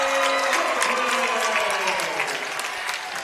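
Cheer section at a high school volleyball match bursts into loud applause and cheering, a dense crowd roar slowly easing off, with a voice speaking over it.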